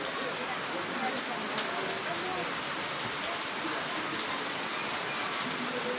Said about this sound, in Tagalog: Labutan na ng ulan.